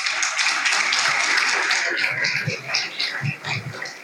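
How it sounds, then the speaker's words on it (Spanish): Scattered clapping rises for town councillors at a mayor's presentation of a botanical park design in Montería, a modest round of applause with a few sharper isolated claps toward the end. "yo también pido un aplauso para los concejales"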